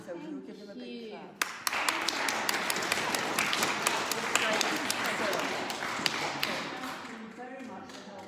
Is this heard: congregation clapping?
yes